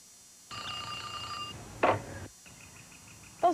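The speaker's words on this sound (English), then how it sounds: "Those harassing phone calls just won't stop." A telephone bell rings in bursts, a long ring followed by a shorter one with brief gaps, each ending in a sharper click or bump, heard alone and fairly close.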